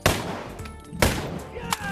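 Gunshots in a video game as an enemy's legs are shot out, three sharp close bangs spaced about a second apart, ringing over a busy game soundtrack.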